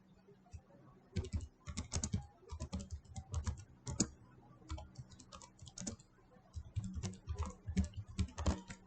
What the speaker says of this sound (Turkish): Basit olarak HTML kodları yazıyorum.